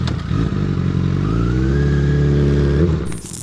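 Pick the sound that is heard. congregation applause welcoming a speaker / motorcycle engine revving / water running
motorcycle engine revving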